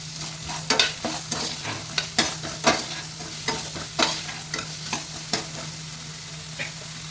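Onion and carrot frying in a pan for a cauliflower-carrot curry, a steady sizzle broken by a string of irregular spatula scrapes and taps as the pan is stirred, close and alone with no talking.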